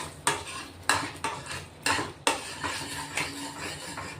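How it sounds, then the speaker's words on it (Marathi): Spoon stirring and scraping sugar-free mawa (khoya) in a pan on full flame, with repeated sharp metallic clinks and scrapes against the pan at an uneven rhythm, close and fairly loud, no talking. "मी आता फुल गॅस करून कंटिन्यू हलवते"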